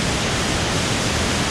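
Constant broadband rush of a waterfall near Guadalupe, Colombia, steady and loud without any break.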